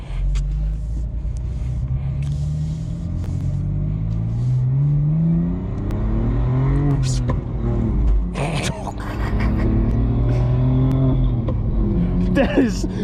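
A BMW M2 Competition driven in the rain gives a steady low engine drone that rises and falls with revving as it shifts gears, while people talk over it.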